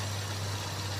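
A Ford Laser engine with a carburetor idles steadily with a low, even hum, close and continuous through the short stretch.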